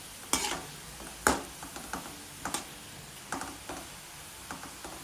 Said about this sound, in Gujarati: આપણે ગાંઠિયાને ધીમા તાપે તળી લઈશું